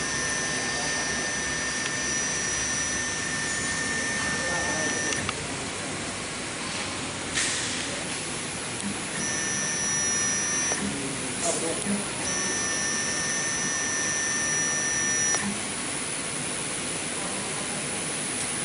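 A dual-spindle CNC router with a DSP controller runs its spindle during homing, giving a loud, steady high-pitched whine that switches on and off in long stretches over machine noise, with a voice talking throughout.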